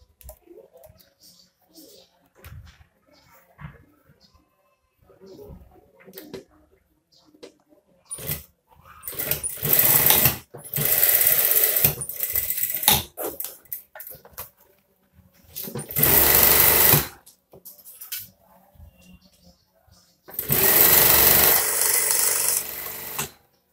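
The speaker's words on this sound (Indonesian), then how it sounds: "Selanjutnya saya akan jahit dari bagian sini ya." A sewing machine stitches the collar of a scout uniform in several loud whirring runs, separated by quiet gaps with small handling clicks.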